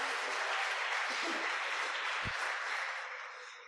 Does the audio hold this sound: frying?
no